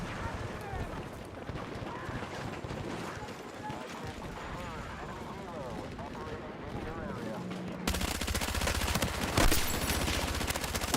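Gunfire in the video game Battlefield 6, with continuous shots and automatic bursts mixed into busy game noise and a voice talking, growing louder and denser near the end.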